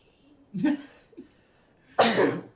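A sudden sharp sneeze bursts out near the microphone, preceded by a shorter throaty sound, with quiet room tone between.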